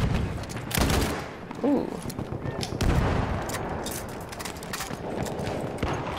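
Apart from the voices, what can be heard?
gunfire from a sniper variant gun in Battlefield 1 video game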